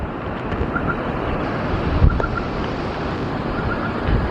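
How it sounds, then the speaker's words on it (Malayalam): Strong, steady wind roars across an open microphone at a seaside lighthouse, with a constant rushing noise and a brief louder gust midway. "നല്ല കാറ്റും ഉണ്ട് ലൈറ്റ് ഹൗസിൽ"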